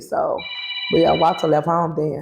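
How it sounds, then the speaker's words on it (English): A mobile phone rings during a relaxed coffee chat: a thin, high repeating electronic ring sits under continuous close conversation between women. "Whose phone is that? Mine? That's my phone."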